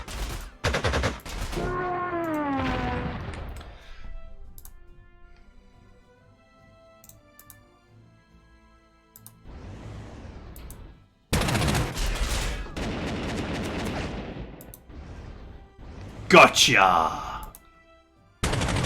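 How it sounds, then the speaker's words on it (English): Gunfire from an anti-aircraft unit shooting down a bomber in the strategy game Panzer Corps 2, bursts of rapid shots between stretches of talk, with a loud sharp burst near the end. "I'm going to shoot this bomber down."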